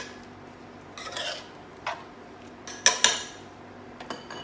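Clove powder and cinnamon being stirred into an eggless Christmas fruit cake mix, heard as a few separate scraping clinks of a utensil against the bowl, close and fairly quiet, with no talking.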